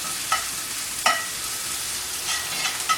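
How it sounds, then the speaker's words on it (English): Onion stir-fried in a pan for butternut squash soup: steady hiss of frying with a few short scraping stirs of the spatula, close and moderately loud, no voices. "keep on stir frying it until the onion becomes translucent and has a nice golden hue to it"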